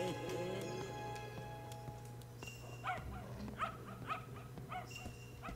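Several short dog barks and yips from the Yo-kai Watch 4 video game, mid-distance over a steady game soundtrack drone, coming in a loose burst in the second half.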